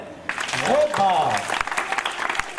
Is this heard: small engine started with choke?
no